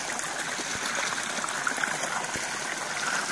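A small stream of water flowing in a narrow ditch near houses, a steady close trickling and burbling that continues without a break and with no voices.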